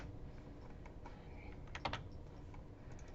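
Fingers type on a computer keyboard, a faint run of soft, irregular key clicks with one brief burst of quicker taps near the middle, heard alone in a quiet room.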